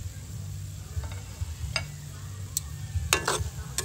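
Adobo with light soy sauce and chili being stirred in a pan, a low steady sizzle with several sharp scraping and clinking strokes of a utensil near the end.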